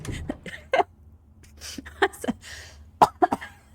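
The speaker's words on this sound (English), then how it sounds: "It's making me cough." Several sharp coughs and throat-clearing bursts come in short clusters from one person close by, with a few quiet vocal sounds between them.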